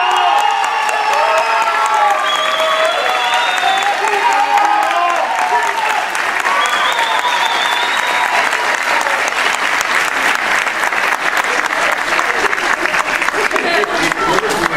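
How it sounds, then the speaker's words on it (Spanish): A theatre audience at a Latin American dance gala applauds loudly and continuously, a dense wash of clapping with scattered cheers and whoops throughout. "sé que lo van a aplaudir mucho"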